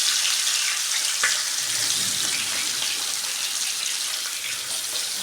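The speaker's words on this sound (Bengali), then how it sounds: "তো আমি মাছগুলো ভেজে লাল করে নেব" Whole fish frying in hot oil for a fish-head curry, a steady close, loud crackling sizzle with a faint splatter pop, continuous throughout with no talk.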